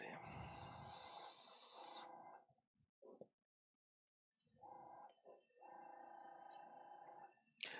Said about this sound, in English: shoot a bunch of shit through the airbrush to try and clean up everything else that we had